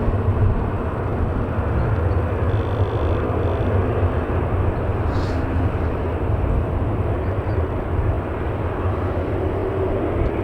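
A jet airliner at Manchester Airport gives off a broad, continuous engine roar that holds steady for about ten seconds, with no voices over it.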